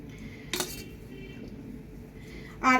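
A metal spoon stirs a chocolate dessert mixture in a bowl, giving two sharp clinks against the dish about two seconds apart, with a faint scraping hum between them and no talk.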